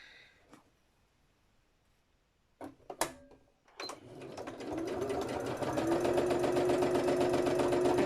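A sewing machine free-motion stitching a bird wall hanging starts up after a few scattered handling knocks, then runs steadily and loudly in a continuous whir that lasts to the end.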